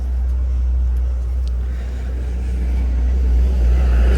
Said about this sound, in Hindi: एक इधर से धीरे धीरे करके गाड़ी आ रहा है।